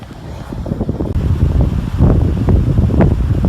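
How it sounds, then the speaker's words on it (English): Strong wind gusts buffeting the microphone at an open hiking and camping spot with a wide view, a continuous low roaring rush that swells louder partway through, with no talking. "Listen to that wind!"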